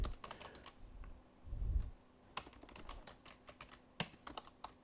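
Code typed on a computer keyboard in close, uneven bursts of quick key clicks with short pauses, steady and fairly quiet with no talking.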